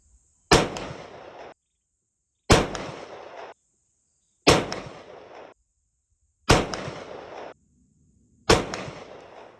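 Five loud shotgun blasts firing Hornady American Whitetail rifled slugs through an improved cylinder choke, evenly spaced about two seconds apart, each a sharp crack with a short decaying tail and silence between.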